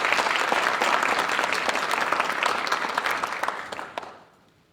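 An audience applauds at a graduation ceremony, a dense sustained clapping from a crowd that holds steady for several seconds, then thins out and fades, with no talk over it.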